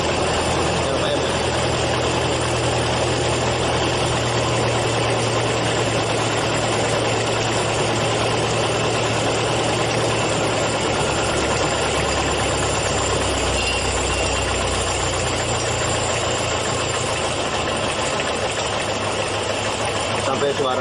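A small engine idles steadily after a carburetor adjustment, a continuous close rumbling drone with a slight dip in pitch partway through, while someone talks over it.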